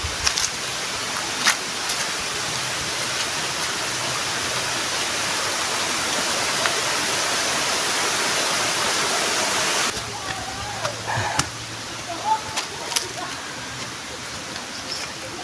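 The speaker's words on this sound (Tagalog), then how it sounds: "Ito yung falls." Anyap Falls in Tanay pours with a steady, full roar of falling water, loud and constant, then slightly softer toward the end as birds chirp faintly and people talk briefly.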